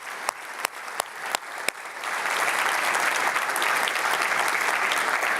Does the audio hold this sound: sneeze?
no